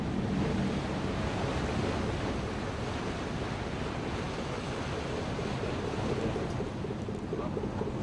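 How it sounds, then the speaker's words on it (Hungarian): Fresh wind and waves on a deep lake heard from a sailing boat: a loud, continuous roar of wind buffeting the microphone over rushing water, steady throughout with no speech. "Friss szél támad, így Ian kibonthatja a Jalabán vitorláit."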